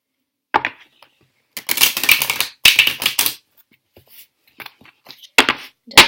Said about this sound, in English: And I am going to shuffle.